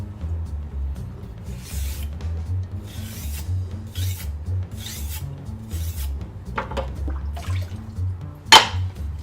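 A kitchen knife is drawn over a wet water stone in repeated rhythmic rasping strokes, close and clear, with soft watery scraping and a sharp click near the end.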